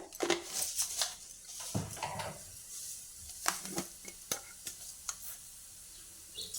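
Cumin seeds sizzle in hot oil with a soft continuous hiss under repeated clinks and scrapes of a spoon against the pan, fairly quiet and close.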